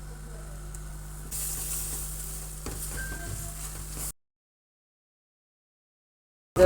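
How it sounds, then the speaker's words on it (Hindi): Semolina, gram flour and nuts fry in a pan for sooji halwa, giving a steady, soft sizzling hiss for about four seconds before it cuts to silence. "ये देखें, अच्छी तरह फ्राई हो चुका है सूजी, बेसन और नट्स।"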